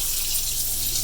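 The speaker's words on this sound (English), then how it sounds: "What I'm going to do is run this over hot water" Hot tap water runs steadily over rice noodles in a kitchen sink, a continuous bright splashing rush that is close and even in loudness, with a low hum underneath and no voices.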